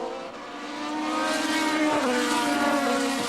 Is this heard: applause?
no